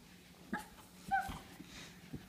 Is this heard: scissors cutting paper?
no